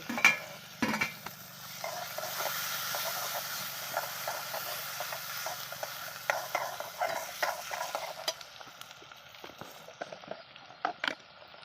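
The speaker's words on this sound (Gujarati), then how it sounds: "પછી નાખી દઈશું આપણા જે ટમેટા કટિંગ કર્યા છે એ." Chopped tomatoes sizzling in a pan in a village kitchen for a drumstick curry, with repeated scraping stirs of a spoon over a soft continuous fry hiss, fairly close and without talk.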